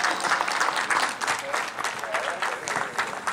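A crowd applauds steadily at the official season presentation of the PFC Maritsa 1921 Plovdiv football team, a dense wash of clapping hands that holds at an even, lively level for the whole stretch.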